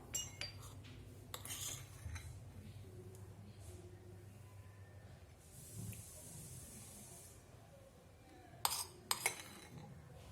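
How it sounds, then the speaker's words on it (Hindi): Ice cubes are dropped into a serving glass of chilled milk for dalgona coffee, giving a few faint clinks and chinks against the glass amid quiet kitchen sounds, with a louder clatter near the end. "इसमें आइस क्यूब डालेंगे।"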